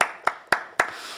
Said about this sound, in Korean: 모든 감사와 영광의 박수를 올려드리겠습니다